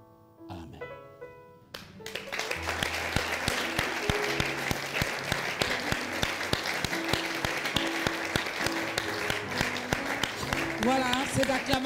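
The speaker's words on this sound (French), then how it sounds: "cette acclamation, c'était pour toi" A church congregation bursts into applause and cheering to welcome a newcomer, rising after a brief musical opening into steady, dense clapping with scattered sharp claps over music and voices.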